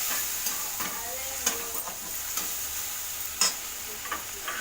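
Tondli (ivy gourd) and potato pieces with coriander sizzle softly in a pan while being stirred, with occasional scraping clicks of the spoon over a steady frying hiss.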